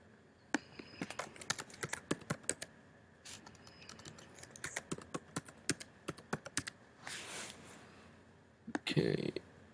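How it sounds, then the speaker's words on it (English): An email address is typed on a computer keyboard during a gamebattles sign-up, making irregular bursts of quick, close key clicks with short pauses between runs and a heavier clatter near the end, while someone talks faintly. "I don't know why I can't type right now."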